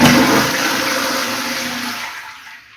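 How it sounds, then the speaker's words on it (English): A toilet flushes after its flush button is pressed: a loud rushing surge of water that slowly fades as the bowl drains over a few seconds, with no talking. "Toilet flush button."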